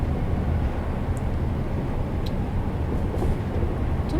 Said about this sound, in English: there's a train approaching